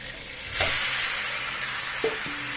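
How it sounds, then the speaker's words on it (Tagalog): Blanched pork hits a hot pan for pork adobo, bursting into a loud, steady sizzle after a moment of quieter frying. Small clinks of a utensil sound against the pan, and no one talks. "Ngayon, ilagay ko na yung pork."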